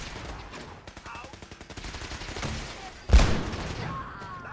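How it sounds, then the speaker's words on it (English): Gunfire in Fallout 4 crackles as a rapid run of shots, building to a loud close blast near the end that rings out and decays. "Taking pot shots at us, eh?"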